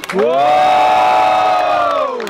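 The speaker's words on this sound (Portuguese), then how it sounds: "Quem gostou mais das rimas do Tortura e a minha direita faz barulho" A crowd at a rap battle in Guarulhos, Brazil lets out a loud, sustained roar of shouting and cheering that swells quickly and holds steady for a couple of seconds before easing off.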